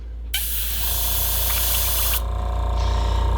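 An airbrush sprays water through its nozzle in one sustained, loud, close hiss lasting a few seconds, then a quieter steady hiss as the flow changes, with no speech.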